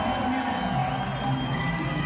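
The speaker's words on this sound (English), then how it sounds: "you hear the people, the adoration of the crowd as they give him love" Crowd at a live fight event in Indio, California, giving a steady, loud wash of cheering and shouting for a fighter, continuous and dense for its short length.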